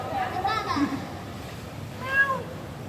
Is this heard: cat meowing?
yes